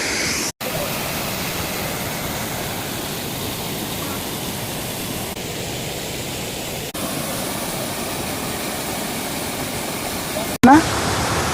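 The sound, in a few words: waterfall at Donabanda, Gottemukka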